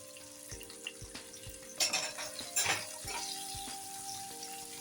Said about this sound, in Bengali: আর দিয়ে দিব এখন পেঁয়াজটা ভাজার জন্য